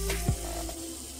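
Tomatoes and onions sautéing in a pan for a country chicken curry, a soft steady sizzle with a brief stirring scrape early on, fairly quiet and with no voices.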